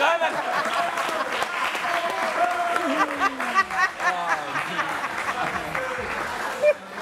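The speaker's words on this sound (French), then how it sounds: "C'est fini, ils ont déjà applaudi." Applause from a crowd, mixed with voices and scattered laughter and chatter on top.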